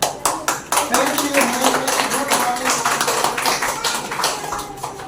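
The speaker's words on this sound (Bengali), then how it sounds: "এখানে সবাই একটুখানি হাততালি দিয়ে" Audience clapping at a company business-opportunity presentation in Maheshtala, a dense run of many hands applauding steadily and fairly close, continuing for several seconds.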